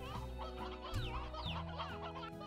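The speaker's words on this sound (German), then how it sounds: "Aber wir haben ein paar Hennen." Hens clucking in the video game Slime Rancher, several birds making steady overlapping clucks at close range over a constant background hum, with no talking.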